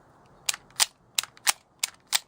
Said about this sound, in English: I can actuate the magazine release.